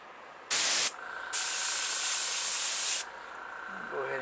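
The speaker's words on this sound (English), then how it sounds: "we've got our gun set to 26, our compressor set to 26 pounds" An airbrush sprays acrylic paint onto a model car body with the gun and compressor set to 26 pounds, giving a short loud burst of spray hiss, then a longer steady hiss lasting about two seconds, with the compressor running underneath.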